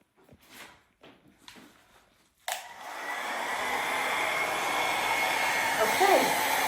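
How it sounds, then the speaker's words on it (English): A hair dryer switches on abruptly and blows steadily onto poured resin art, a loud continuous whoosh following some quiet handling and rustling, with a voice briefly heard over it. "And let's grab the hairdryer."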